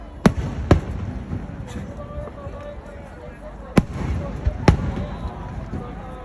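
Fireworks bursting at the Adachi fireworks festival in Japan, with four sharp booming bangs spread across the clip over a steady crowd murmur and faint announcements.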